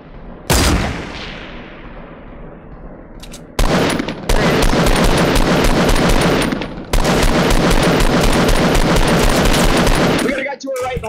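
Rapid automatic gunfire in Fortnite, shooting out the wooden structure under an opponent's stairs during a squads battle royale match, with long sustained bursts split by brief pauses and one sharp opening shot.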